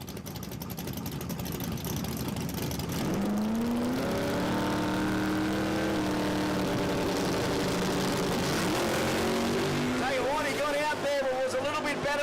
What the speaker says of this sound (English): Great drag race.